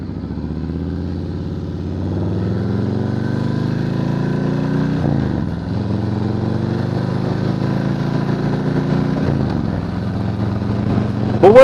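A 2020 Harley-Davidson Softail Standard motorcycle engine under way on a ride, a steady loud low rumble with rising and falling pitch through gear changes and a brief dip midway, heard close and alone.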